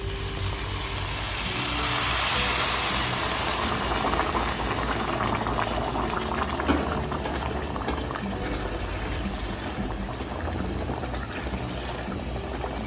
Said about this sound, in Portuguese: Agora eu vou colocar a água